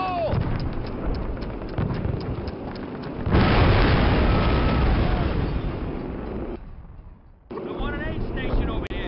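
A grenade explodes in the Call of Duty video game, a loud broad blast that swells and rumbles for a few seconds over continuous gunfire and battle noise, then drops away before the combat sounds return.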